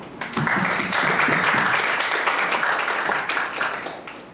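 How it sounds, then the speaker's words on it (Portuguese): An audience at a startup and entrepreneurship event claps to welcome a guest speaker on stage, dense, steady applause from a crowd swelling quickly and holding for several seconds before tapering slightly. "eu queria aí pedir uma salva de palmas para a gente receber o Rodrigo Barro"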